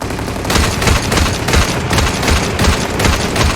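Sustained rapid gunfire from a free online shooter game, loud bursts of automatic shots in a steady rattling rhythm over roughly four seconds with no talking.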